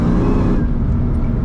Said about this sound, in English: that supercharger noise is really nice too